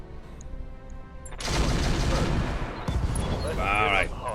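Weapons fire during a battle in the BattleTech RogueTech mech combat video game: after a quiet start, a sudden loud sustained volley of blasts and rumbling impacts, ending in a rising electronic whine, with no voices over it.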